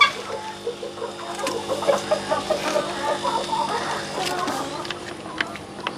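Several chickens clucking nearby in a busy, overlapping chorus, with soft background voices.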